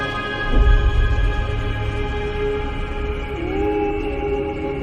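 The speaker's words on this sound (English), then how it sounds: "They are literally the sounds of space ringing." Gravitational waves from two merging black holes converted to sound: a low rumbling burst near the start, then a steady tonal hum that slides upward in pitch toward the end, with no voices.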